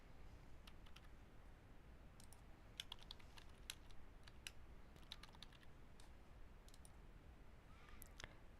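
Card details go in on a computer keyboard as quick light clicks in short uneven runs with brief pauses between them. The typing is faint against a quiet room hiss.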